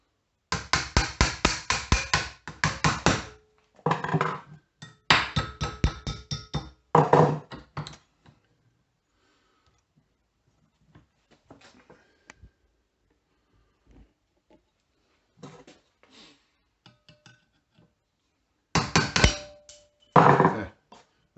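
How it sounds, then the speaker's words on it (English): A chisel struck to knock the last remnant of an oscillating multi-tool blade off its carrier, giving bursts of sharp, rapid metallic knocks and taps with quiet gaps between, ending in a couple more clusters of hits. "all that's left is to remove this little bit here, which I'll do with my chisel."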